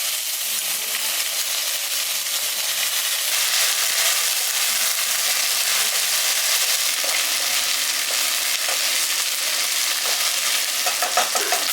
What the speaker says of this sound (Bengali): এবার এতে দিয়ে দিচ্ছি আমি আদা রসুনের পেস্ট 2 চামচ